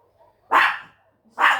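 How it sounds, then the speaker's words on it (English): A dog gives two sharp barks about a second apart, fairly loud and close, with quiet gaps around them. "It's a dog barking, Max."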